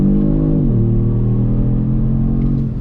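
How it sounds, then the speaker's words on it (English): A 2019 Kia Stinger GT2 pulls hard in second gear under throttle, its engine droning loud and close with a steady rising note, a brief dip as revs shift, then a constant strong roar. "We're in second gear, on throttle."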